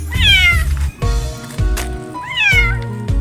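Cats meow loudly and close by, two drawn-out, rising-and-falling meows separated by a short gap, with no talking.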